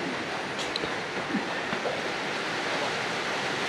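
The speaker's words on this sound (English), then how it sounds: "It's starting to really pour." Heavy rain pours down on a cold day outdoors beside a Hiace van, a dense, constant hiss of falling water with a few faint clicks and taps over the steady wash.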